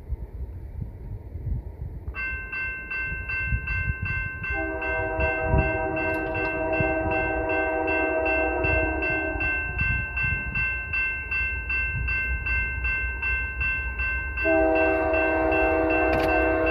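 Eastbound Union Pacific train passing trackside on a cold day in Perry, Kansas, a continuous low rumble of rolling cars under a loud, sustained multi-tone horn sounding in long blasts, with a brief high chime partway through.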